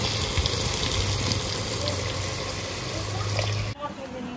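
Water pours steadily into a clay pot of browned chicken curry with potatoes, a dense continuous splashing gush that stops abruptly near the end.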